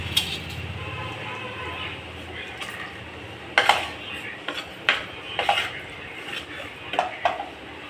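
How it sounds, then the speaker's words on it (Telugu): Spinach rice being mixed by hand in a metal vessel, with soft squelching and a few sharp clinks of the pot at irregular intervals, close by. "గరిటతో సరిగా కలవదండి, అందుకని చేతితోనే కలుపుతున్నాను"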